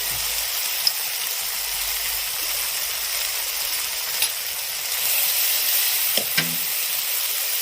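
Rohu fish kalia masala with turmeric sizzles steadily in a pan as it is stirred, a continuous close hiss broken by a few faint clinks of the spoon.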